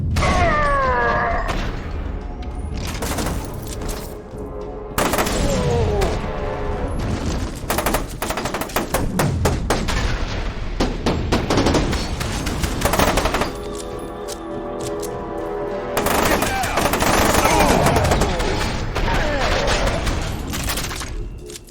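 Pistol gunfire in the shooter game FEAR 2: loud, repeated sharp shots in quick bursts with mechanical clatter and booming impacts, with a voice audible at points.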